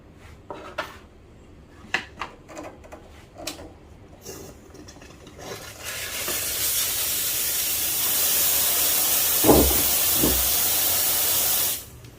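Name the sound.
VBM Domobar Junior espresso machine steam wand steaming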